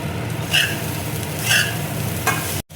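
Coconut and jaggery filling stirred in a kadai for a sweet chop filling, with a soft steady sizzle and a few distinct scraping strokes of the spoon.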